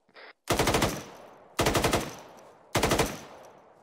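Three loud, close bursts of automatic gunfire from Arma 3, each a rapid string of shots with a sharp attack and decaying tail, separated by short pauses, with a brief faint sound just before the first burst.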